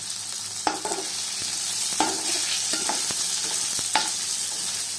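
Onions and tomatoes sautéing in a pan for a broad bean curry, steady sizzling with periodic spatula scrapes and clacks against the pan, close and alone.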